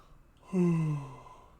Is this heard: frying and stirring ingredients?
no